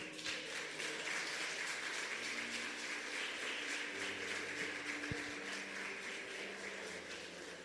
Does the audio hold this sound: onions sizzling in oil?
no